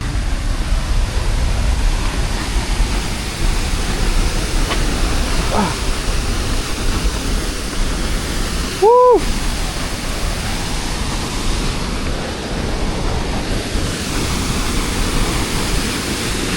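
A waterfall in rural El Salvador roars as a loud, steady broadband rush, with one brief high chirp partway through.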